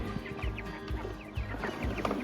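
Meat chickens cluck repeatedly inside a carrier, a busy overlapping stream of short clucks and squawks close by, with no talking over them.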